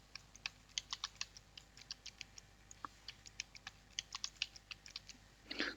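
Root password for an ESXi server being typed on a computer keyboard, a quick run of crisp, close keystrokes in uneven bursts with a short pause midway and no talking.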